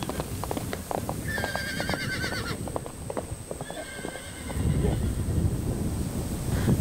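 Domesticated horses moving freely outdoors, hooves clip-clopping in an irregular rhythm with two drawn-out whinnies, wind and rustling rising toward the end.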